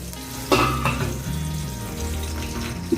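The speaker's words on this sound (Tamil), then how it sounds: "ஒரு வெங்காயம் கட் பண்ணி வச்சுருக்கேன், அதை சேர்க்குறேன். இது கொஞ்சம் நேரம் வதங்கட்டும்." Chopped onion sautéing in a pan, a steady close frying sizzle with a sharp clatter near the start and a faint knock at the end, no voices.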